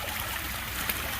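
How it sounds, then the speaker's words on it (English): Waterfall pouring into a koi pond and aerating it, a steady, close rush of splashing and trickling water that fills the whole clip without pauses or voices. "you can see there's a lot of aeration going into this pond with just this one waterfall"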